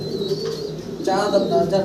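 A new breeding pair of pigeons coos close by at a pigeon farm, a short low throaty call lasting under two seconds.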